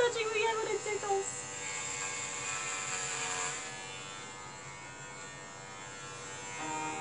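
Electric hair clippers buzz steadily while cutting a young girl's hair, a continuous mid-level drone that tapers off and returns near the end, with people talking over it.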